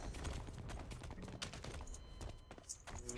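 Rapid gunfire from a first-person shooter match in Blacklight: Retribution, dense overlapping shots and clicks running continuously and loudly throughout, with no speech over it.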